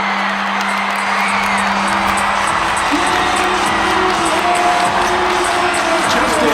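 A loud, sustained roar of cheering and whooping from a basketball crowd after the Wildcats' winning shot at a girls' 3A North Region championship game, filling the entire stretch.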